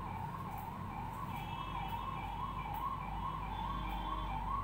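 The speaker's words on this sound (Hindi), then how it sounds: "ये एम्बुलेंसेस बहुत सारी जाती है मेरे घर के नीचे" An ambulance siren wails steadily below a house, its warbling tone rising and falling continuously throughout over low traffic rumble, moderately close and loud.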